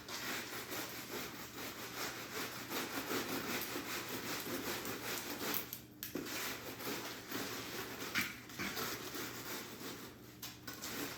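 A steady, rhythmic rasping scrape repeats back and forth as a board screeds wet concrete for a countertop in a sawing motion, fairly quiet with no talking.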